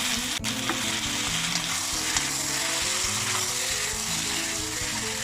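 Tomatoes and green chillies sizzling in a biryani pan: loud, dense frying crackle that holds steady throughout, with a sharp knock near the start, heard up close.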